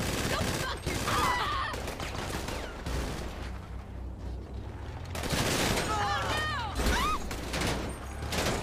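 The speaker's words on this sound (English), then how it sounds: "I'm literally being shot through my wall here." Machine guns on the JB700W car in a video game rattle in dense bursts of gunfire, loud and close, with a quieter gap in the middle and some game effects mixed in.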